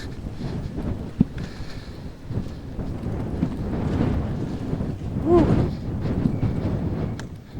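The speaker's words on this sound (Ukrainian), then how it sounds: "Ой, тут вітер продуває." Wind gusting down a windy street, a steady broadband rush with swells and buffeting against the microphone, plus a faint tonal squeal midway and scattered small knocks.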